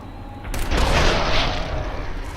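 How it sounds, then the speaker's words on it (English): Booby-trapped mole rat exploding in Fallout 4, a loud booming blast with a burst of crackling debris that swells and then rolls off in a long decaying rumble, heard alone. "The damn thing exploded. The vermin were rigged to blow up."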